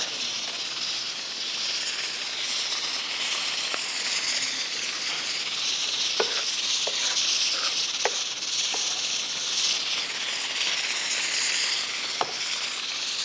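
Spinach fries with garlic and cumin in hot oil over high heat, giving a dense, steady sizzle with occasional sharp spatters and clinks from the pan, close up and with no voices.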